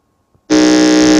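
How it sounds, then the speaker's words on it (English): After a moment of silence, a loud, harsh electronic quiz contest buzzer blares continuously, close and unbroken. "Can we hear the sound from the buzzer for Greater Grace?"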